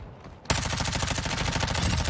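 Rapid automatic gunfire in the video game Warzone 2, a loud sustained burst of evenly spaced shots that starts suddenly after a quiet moment and keeps going.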